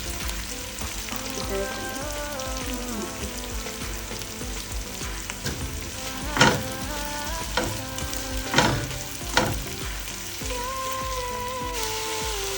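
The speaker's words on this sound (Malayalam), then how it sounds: "ഇഞ്ചിയും വെളുത്തുള്ളിയും കുറച്ച് നന്നായിട്ട് വഴന്ന് വന്നിട്ടുണ്ട്." Ginger and garlic, with onion to follow, sauté in an oiled pan for majboos, giving a steady close frying sizzle with occasional stirring scrapes. No one speaks over it.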